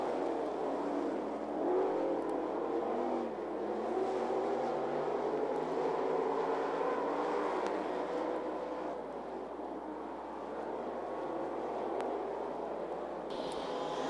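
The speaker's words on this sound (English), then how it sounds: "Now three car length advantage out of turn four is the 14 of Kurt Owens" Street stock race cars roar around a speedway oval, a steady, loud blend of engine drone and whir holding throughout with slight swells as the pack passes, no voices over it.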